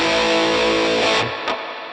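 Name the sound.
guitar amp with spring reverb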